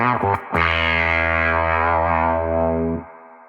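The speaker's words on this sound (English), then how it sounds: "the next pedal on my pedal board here is the Walrus Audio Kangra. And this is probably the craziest sounding pedal on my board." Electric guitar through a Walrus Audio Kangra filter fuzz pedal: a short choppy figure, then one thick, heavily fuzzed sustained note with a sweeping filter that rings for a few seconds and cuts off.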